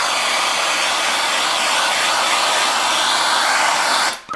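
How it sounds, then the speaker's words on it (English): A handheld torch roars in a steady, loud hiss as it burns the surface of poplar wood, the flame noise continuous before cutting off abruptly at the end. "we're going to torch it"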